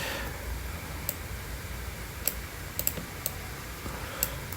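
Scattered computer keyboard key presses, a few sharp isolated taps spaced irregularly over a steady low background hiss, close and fairly quiet, while working on a PCB design in software.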